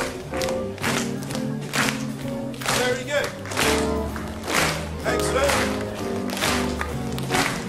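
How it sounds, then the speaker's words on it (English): Audience members click fingers, slap legs or clap together on steady beats at a live youth jazz orchestra school event, a regular rhythmic pattern of crisp taps over musical tones, with a speaker's voice cutting in briefly. "see if you can click your fingers on beats 2 and 4, okay?"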